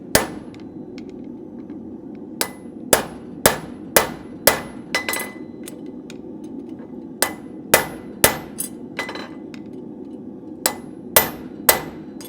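A hammer striking a punch to make finer nail holes in a horseshoe for a thin hoof wall: sharp, ringing metallic blows, loud and close, coming in irregular bursts and pauses over a low steady background hum, with no talking.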